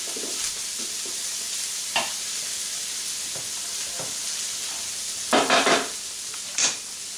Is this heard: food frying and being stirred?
yes